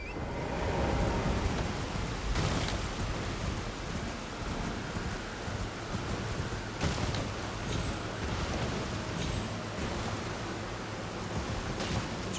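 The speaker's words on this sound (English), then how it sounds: "It's raining." Steady heavy rain in Elden Ring hisses continuously, with a low rumble of thunder rolling underneath, no voices.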